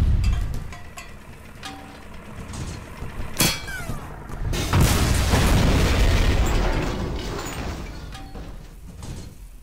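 A tank is blown apart in a Garry's Mod World War II role-play game, with sharp explosive bursts followed by a long, loud rumbling boom and debris.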